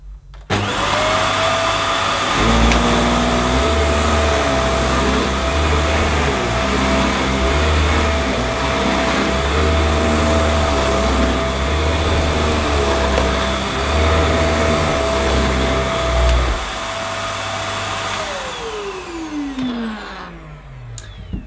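A Vax Air Stretch vacuum cleaner starts up with a rising whine, runs loudly and steadily with a droning motor tone, then switches off and winds down with a falling pitch near the end.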